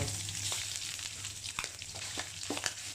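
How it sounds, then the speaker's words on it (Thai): Thai red curry paste fries with pork belly in its rendered fat, a continuous close sizzle with occasional scraping stirs. "ผัดพริกแกงกับหมูเนี่ยคลุกๆกันไปเลย"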